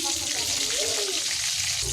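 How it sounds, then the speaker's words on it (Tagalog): Chicken balls sizzle loudly in a frying pan while being stirred, a close, continuous hiss with a brief voice murmuring in the middle. "Halo muna natin"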